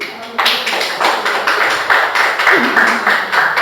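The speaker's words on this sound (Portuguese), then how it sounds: "Então, aplauso ao Senhor Jesus." A church congregation applauds in a loud, rhythmic, close burst of clapping with a pulsing beat, and voices mix in underneath.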